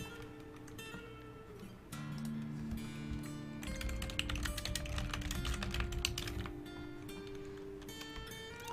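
Typing on a computer keyboard while playing Dwarf Fortress, with fast, close clicks that swell into dense bursts in the middle, set over quiet background music and free of speech.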